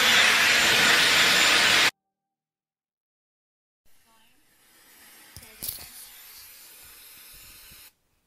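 A strong, loud rush of blowing air from a Dyson Airwrap hair styler that cuts off abruptly, followed by silence and then faint handling sounds.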